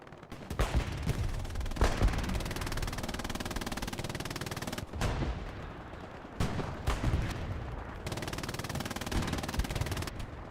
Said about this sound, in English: Maybe it was a recon tank actually shooting at this spot.